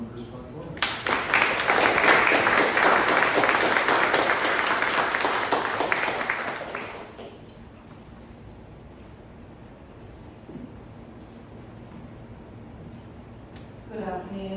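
An audience applauds a speaker being welcomed at a book launch. The clapping starts abruptly and stays loud and dense for several seconds, then fades into quiet room noise with a few faint sounds.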